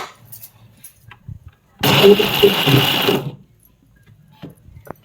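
A mixer grinder whirs loudly for about a second and a half as it grinds peppercorns, onion and masala, starting and stopping abruptly between quieter handling noises.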